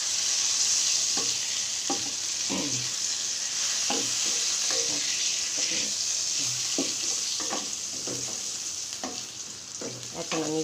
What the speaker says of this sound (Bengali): এখন আমি তেজপাতাটা দিয়ে দেবো। তেজপাতাটা ভাজা হয়ে গেলে